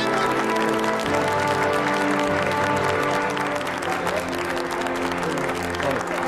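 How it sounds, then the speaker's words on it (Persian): An audience applauds as people are called on stage to receive plaques, a full continuous clapping from a crowd with music or tonal sound running underneath. "تشویق شایسته"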